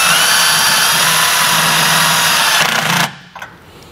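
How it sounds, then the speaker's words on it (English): A power driver spins a self-tapping screw to fix a trailer brake controller's circuit breaker in a 2014 Toyota, a loud steady whirring motor that stops abruptly after about three seconds, followed by brief faint clicks. "Now we can grab our self-tapper provided and mount our circuit breaker permanently."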